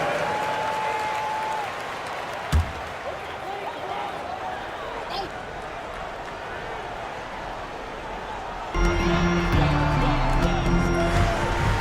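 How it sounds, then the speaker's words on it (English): Steady crowd applause fills a basketball arena during a timeout, with a sharp thud partway through and a louder swell of cheering and music near the end. "Big round of applause for the 407."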